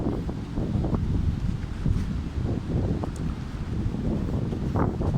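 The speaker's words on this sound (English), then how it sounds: "Oh God, big wind gust." Strong wind gusts roar through woods during a storm, with a dense, steady rush of noise buffeting nearby and lasting throughout, rising in surges.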